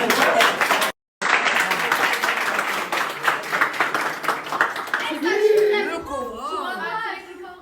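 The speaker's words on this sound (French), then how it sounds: "Applaudissements." A group applauds with brisk, close clapping inside a villa for about five seconds, broken by a brief cut, then the clapping gives way to chatter and light laughter.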